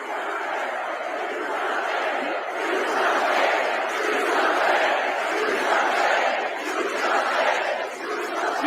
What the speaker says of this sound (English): The DNC crowd starts chanting, do something.